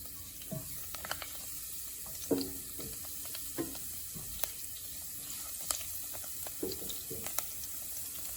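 A couple of rosemary sprigs frying in a hot pan, a steady hiss of sizzling oil with scattered small pops and clinks, fairly quiet with no talk.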